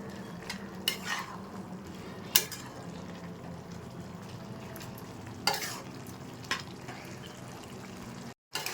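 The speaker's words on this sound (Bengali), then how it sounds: "একটু নেড়ে দেবো" A pumpkin and spinach curry simmers and sizzles in a pan while a spoon stirs it, giving a steady low bubbling bed with a few sharp scraping clinks, close and moderately quiet.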